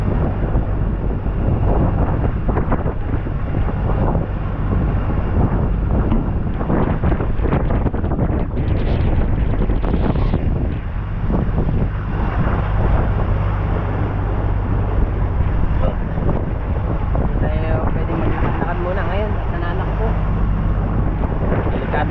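Strong wind roars steadily over a boat at sea in rough, choppy waves at dusk, loud and constant throughout, with a voice speaking over it.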